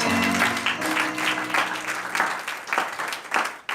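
A church congregation applauding at a Christmas Day service, steady dense clapping from many hands throughout, with a voice faintly audible underneath at the start.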